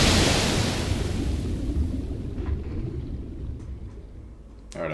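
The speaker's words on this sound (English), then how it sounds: "Alright, I fell in the water." Waves wash and churn after a fall into water in the Elden Ring video game, a broad rushing surf that starts loud and gradually fades, with a brief splash at the end and no talking.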